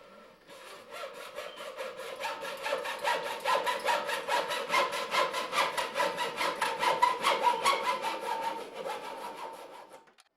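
A hand saw cuts through wood for a child's play medieval sword in a string of rapid, rhythmic rasping strokes that grow louder and then fade as the cut finishes, with no talking.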